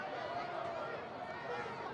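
A home crowd at an Arlington Heights high school football game reacts unhappily to a penalty call, a steady, distant wash of murmuring and grumbling voices with no single shout standing out.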